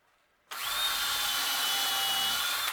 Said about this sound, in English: I've already changed over to a bugle head type of countersink bit